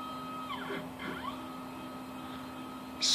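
The stepper motor of a wooden CNC mill drives the Z-axis slowly, giving two short whining sweeps over a steady hum, quiet and close, ending in a brief burst of noise.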